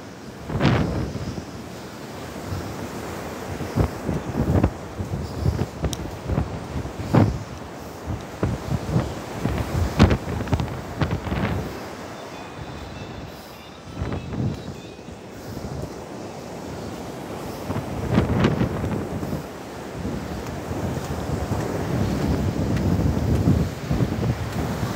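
Heavy sea waves from Typhoon Maysak crash and surge repeatedly onto a beach, loud and near, mixed with gusting wind that batters the microphone.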